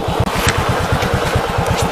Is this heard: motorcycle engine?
yes